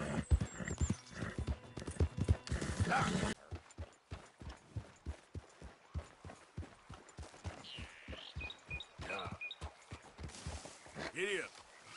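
Horse hooves clip-clop steadily in the Red Dead Redemption 2 video game, with a regular rhythm of distinct hoof strikes, a whinny and a short spoken remark near the start.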